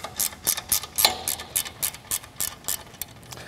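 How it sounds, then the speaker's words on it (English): Ratcheting wrench clicking as it turns the motor-side nuts on a 19-38 combination brush/drum sander, a steady run of about fourteen sharp close clicks at an even pace with no talking. "I find that a ratcheting wrench works a lot easier than a standard opening wrench."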